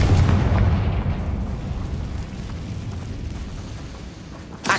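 In Hogwarts Legacy, a Confringo blasting spell erupts in a loud, booming explosion that rolls on and slowly fades, with a fresh burst of sound right at the close.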